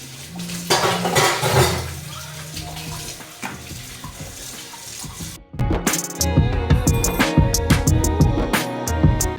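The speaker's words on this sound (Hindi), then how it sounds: "इसीलिए मैं कोशिश करती हूँ कि थोड़े थोड़े बर्तन धोती रहूँ" Dishes are washed in a kitchen sink: running tap water splashes while pots, plates and cutlery clatter and clink, intermittent at first, then a busier burst of water and clanking dishes close by.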